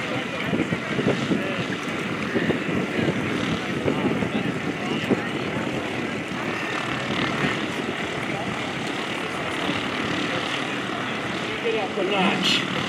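Propeller engine of an aerobatic airplane performing at the 2024 Leesburg Airshow, a steady droning roar that stays loud and continuous over windy outdoor noise, with a slight rise near the end.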